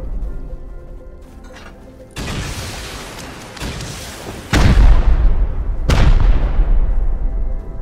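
Rockets exploding during a raid in the video game Rust: several heavy, booming blasts, with sharp onsets near 2, 4.5 and 6 seconds, each ringing out into a long rumbling decay, loud and close with no talk.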